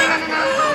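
Village chickens clucking at a rural homestead during a festival tour, a steady, close bird chatter filling the short moment with no talk over it.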